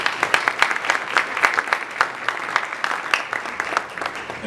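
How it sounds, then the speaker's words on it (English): A conference audience applauds its speakers at a supply chain event, a burst of lively, fairly close clapping with sharp individual claps that runs the whole time. "Another round of applause for all of our speakers."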